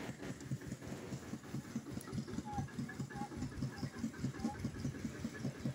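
A 2005 TAFE 25 DI tractor with its original, never-opened diesel engine idles nearby in a steady, evenly pulsing chug that stays loud and unbroken throughout.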